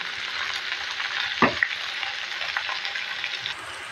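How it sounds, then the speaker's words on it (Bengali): Kalmi greens (water spinach) frying with green chillies in an uncovered pan, a steady broadband sizzle throughout with a brief louder stir or clatter near the middle, no talking. "তা আমি আজকে ভাজি করবো।"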